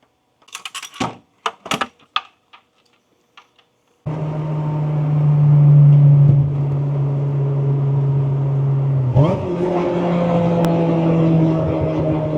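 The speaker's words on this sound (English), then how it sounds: "The car is loud, but it's so freaking cool when you're on boost." Inside a boosted 2000 Acura Integra on a test drive: a few sharp clicks and taps, then the engine bursts into a loud, steady droning note, swelling again as it revs higher toward the end.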